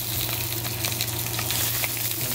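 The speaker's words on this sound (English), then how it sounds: "There's that sizzle." Sausages sizzle loudly and constantly in a hot, slightly smoking frying pan, with small pops and crackles and no talking.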